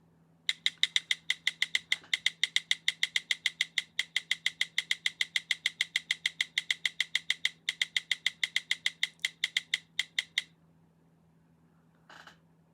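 A spinning wheel ratchets with a rapid, even ticking for about ten seconds, then slows to a stop, followed by one faint click.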